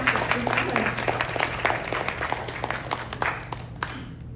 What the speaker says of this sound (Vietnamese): Xin quý vị một tràng pháo tay để chào đón